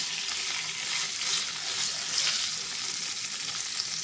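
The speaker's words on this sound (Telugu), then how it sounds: "ఎండుమిర్చి వెల్లుల్లిపాయి బాగా ఫ్రై అవ్వాలండి మాడిపోకుండా సింగిల్లో పెట్టుకొని ఫ్రై చేస్తున్నాం" Dried red chillies and garlic frying in oil on a low flame, a continuous bright sizzle with occasional soft stirring movements, close and steady throughout without any voices.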